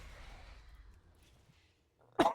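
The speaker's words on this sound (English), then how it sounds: "Sorry for coughing." A person playing a video game lets out a single sharp, close cough near the end. Before it there is only faint background murmur and a stretch of near silence.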